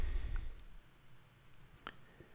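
A computer mouse clicks on an Open button in an Excel add-in, a few faint, sharp clicks over quiet room hiss.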